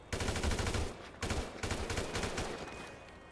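Rapid automatic gunfire from a modded weapon in GTA 5, two dense bursts of fast shots with a brief gap between them, loud and close with no talking.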